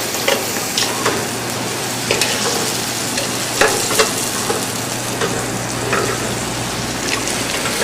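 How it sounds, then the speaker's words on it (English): Coffee-cocoa spiced rack of lamb searing in a hot pan, giving a steady close sizzle with scattered crackles and pops that runs the whole time with no voices. "And you want to sear the ends as well."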